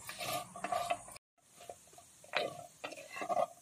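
Goat trotters sauté in a pan, heard as a few short bursts of scraping and clinking from a spoon against the metal with a light sizzle, broken by a brief silent gap, close and with no speech.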